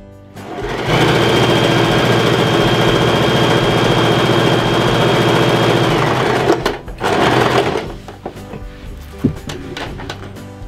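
Sewing machine stitching box pleats in fabric, a steady close whirring run for several seconds that stops, starts briefly again, then gives way to light handling noises.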